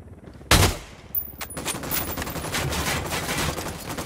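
Gunfire erupts in the tactical shooter Ghost Recon Wildlands during a firefight with cartel and Unidad troops in a parking area: a sharp loud blast, then a second burst, followed by sustained rapid automatic fire rattling on continuously.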